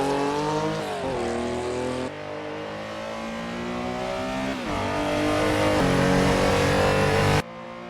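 Hammerhead race car on a circuit, engine revving hard and climbing as the throttle opens onto the straight, with a brief gear-change dip and then sustained loud acceleration, close and continuous.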